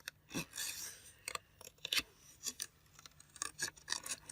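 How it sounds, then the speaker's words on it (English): Scissors cut scrapbook paper around printed flowers, making a series of short crisp snips and paper rustles in an irregular rhythm, close and quiet. "it's not really a fussy cut. This is like a shadow cut."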